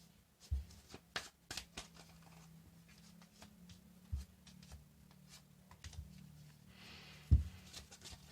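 Tarot cards being shuffled by hand, soft irregular riffles and taps with a few sharper slaps, fairly close and quiet against a low background hum.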